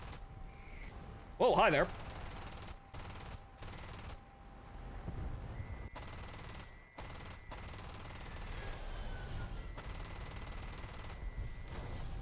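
Aircraft guns firing in the War Thunder combat flight game, several short, sharp bursts spread across the moment over a background engine drone, with someone briefly speaking.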